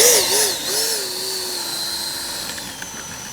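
A Freewing 80mm T-33 Shooting Star RC jet runs its ducted-fan motor with a loud, steady high-pitched whine that wavers slightly in pitch at first, then holds a constant tone.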